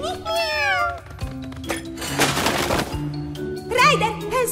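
Cartoon kittens mew in high, wavering cries at the start and again near the end, with other effects and thuds between them.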